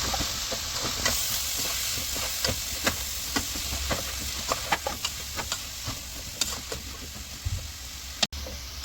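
White bitter gourd pickle mixture stirred in a pan, a soft continuous sizzle and hiss with repeated close scraping taps of the spoon against the pan, steady and moderately loud, no voices.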